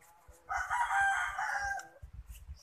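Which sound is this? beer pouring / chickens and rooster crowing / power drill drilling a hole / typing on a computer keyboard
chickens and rooster crowing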